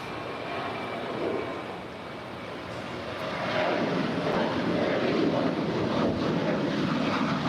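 A Korean Air Cargo Boeing 777 inbound from Seoul on approach to LAX's south side, its engines a steady loud roar that swells partway through and holds, with wind buffeting the microphone.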